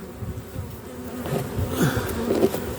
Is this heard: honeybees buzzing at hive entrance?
yes